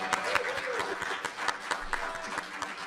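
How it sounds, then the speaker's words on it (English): Applause and cheering from a live audience at a fantasy baseball event in Arizona, with distinct individual claps punctuating a crowd wash and voices calling out over it. "round of applause for Scott White"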